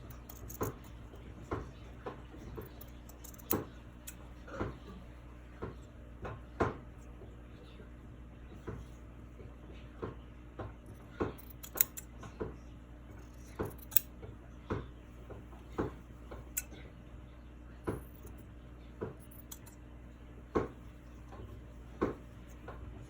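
Blades of scissors snip through material again and again, working along both sides, each cut a faint sharp click spaced a second or so apart over a quiet room hum.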